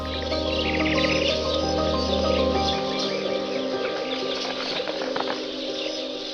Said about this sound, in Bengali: বাদ গেল না ভীমরাজ, বুলবুলি, টিয়া, ঈগল এবং পরিযায়ী সহ বিচিত্র সব পাখিরাও।